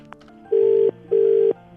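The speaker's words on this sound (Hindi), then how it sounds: "मिलाओ सक्षम का फोन. अभी मिलाते हैं भाई." A telephone rings on the other end of an outgoing prank call placed from an STD booth, with two long steady tone bursts separated by a short pause. The ring is loud and clear, with no talk over it.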